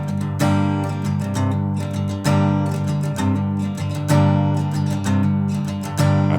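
An acoustic guitar plays a rocking picking pattern. The notes are steady, full and close, with a driving rhythmic pulse and no voice.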